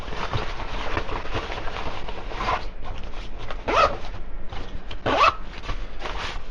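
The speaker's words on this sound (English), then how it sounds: "1 zipper all the way down, which is also the YKK weatherproof zipper there" A YKK weatherproof zipper on a paintball jacket pocket is pulled open, giving a couple of quick raspy zips over continuous handling rustle and background noise.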